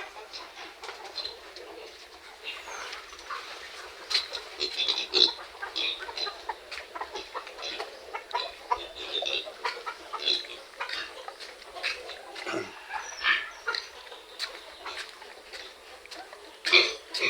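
Free-range Rhode Island chickens cluck and peep in a yard, scattered short calls near and far across a quiet outdoor background, with someone speaking in Filipino now and then.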